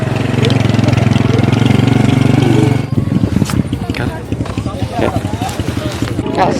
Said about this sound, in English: It's a conglomerate of motorcycles.